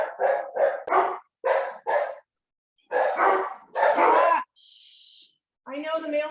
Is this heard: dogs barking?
yes